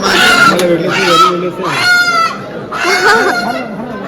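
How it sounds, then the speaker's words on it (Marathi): Loud, close rooster calls repeat in three drawn-out bursts, harsh and honking, with strained crowing tones. "कोंबडा कोंबडा एक कोंबडा"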